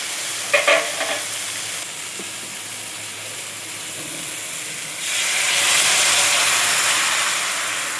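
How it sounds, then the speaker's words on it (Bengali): Water poured into a hot pan of mola carplet fish shukto with bitter gourd sets off a close, steady sizzle and steamy hiss that swells louder toward the end, with no talking. "এবার আমি ঢেলে দেবো জল।"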